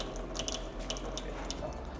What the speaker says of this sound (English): Turn on this to get a filter water.